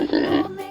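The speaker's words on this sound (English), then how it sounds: "Pig. The sound of a pig." A pig gives one short, close, nasal oink with a grunting texture that fades quickly.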